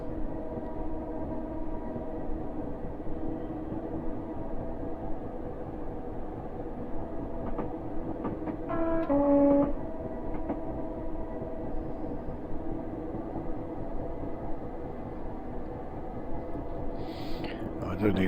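A Class 423 4-VEP electric multiple unit rolls along in Train Simulator on the Tonbridge to Hastings line, a low steady rumble and hum with faint clicks and a brief tonal whine midway, quiet throughout.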